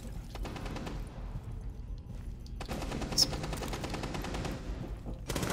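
Rapid bursts of gunfire in the tactical shooter Rainbow Six Siege, a steady rattling volley through most of the stretch with a sharp louder crack near the middle, no talking over it.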